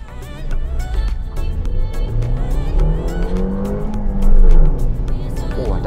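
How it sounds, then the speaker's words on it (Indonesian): Suzuki Ertiga GL accelerating hard from a standstill, engine rising and falling through the gears with a brief wheelspin squeal, heard loudly from inside the car with tick-like clicks throughout. "kita dari berhenti, ini kita mau coba tarik ya"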